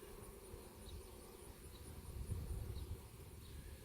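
Honey bees buzz around an open hive during a nuc split, a soft, steady, fairly faint drone with individual bees passing close now and then, and no voices.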